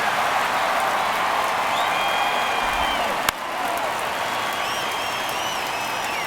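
Baseball stadium crowd in MLB The Show during a tight ninth inning, a steady roaring wash of cheering and applause with faint whistles, briefly dipping after a sharp click before resuming.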